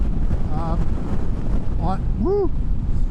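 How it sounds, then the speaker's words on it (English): Strong wind roars steadily across the microphone, buffeting it loudly throughout, with faint birdlike chirps rising above the rushing noise. "very windy, my goodness."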